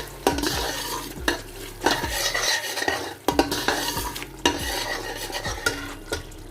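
Noodles tossed with salt and green chili in a pan, rhythmic metallic spatula scrapes and clanks repeating roughly every second over a low sizzle, close and clear with no voices.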